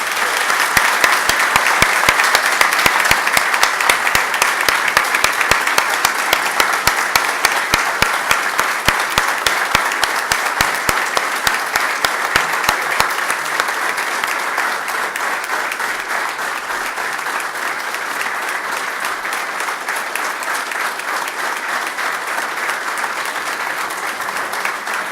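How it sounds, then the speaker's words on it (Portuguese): Audience applause fills a hall during a formal University of Madeira anniversary ceremony honouring a professor, steady and dense clapping for about 25 seconds that eases slightly in intensity toward the end. "solicitando uma salva de palmas"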